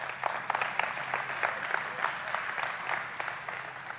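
A congregation claps during a church sermon, a steady dense patter of many hands at moderate level with no talk over it.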